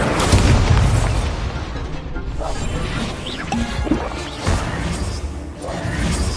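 Incendio fire spell cast in the Hogwarts Legacy video game, a loud, dense whooshing burst of fiery noise that fills the clip with crackling and rumbling low end, with no clear gaps.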